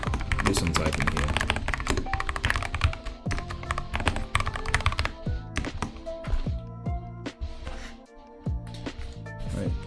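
Typing on a new computer keyboard at a programmer's desk produces rapid, close clacking keystrokes in dense bursts, thinning into sparser taps toward the end, with someone talking intermittently over it.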